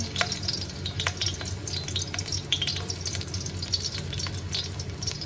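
Garlic and ginger frying in a pan for river prawn yee mee noodles, a moderate crackling sizzle with occasional stirring scrapes and light clicks of a utensil.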